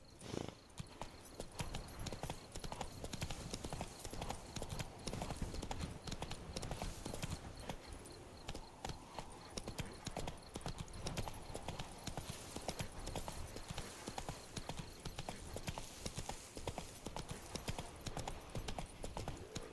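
Roach the horse trots in The Witcher 3, hooves clip-clopping in a quick, continuous rhythm, up close and fairly loud over a dense game soundscape.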